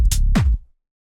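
Tech house drop with the bass and kick unfiltered, a loud, full-range burst of two punchy hits with deep low end, cutting off quickly into silence.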